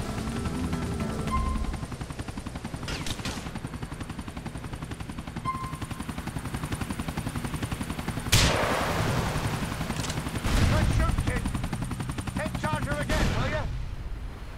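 Video game GTA 4 combat: a helicopter's rotor drones throughout while bursts of gunfire and loud blasts break in, with game characters talking in places.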